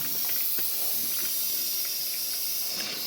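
Steady loud sizzling hiss of spices hitting hot oil for a Punjabi tadka, continuous throughout with a few faint crackles and pops.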